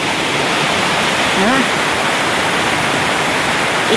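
Rushing river water during a sudden flash flood after rain, a steady loud broadband roar filling the whole clip, with a brief voice exclamation over it.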